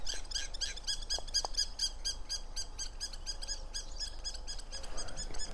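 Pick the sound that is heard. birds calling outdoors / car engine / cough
birds calling outdoors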